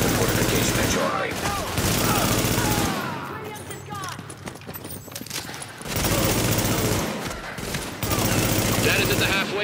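Sustained automatic gunfire and heavy fusillades in Tom Clancy's The Division, loud and dense in bursts with a quieter stretch of scattered shots in the middle, while game voices speak over it.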